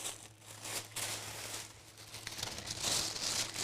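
Tissue paper being crumpled and torn by hand for a craft project: continuous close, crisp crinkling and rustling with brief tearing bursts, moderately soft, over a faint low background hum, with no talk.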